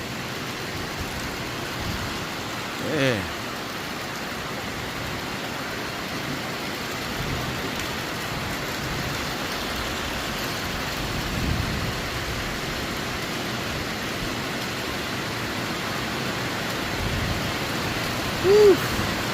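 Rain falls outdoors as a steady soft hiss throughout, with a brief voice and a few faint bumps.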